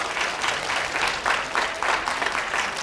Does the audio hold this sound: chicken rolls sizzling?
no